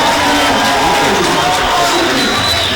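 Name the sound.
crowd roaring at a high school basketball game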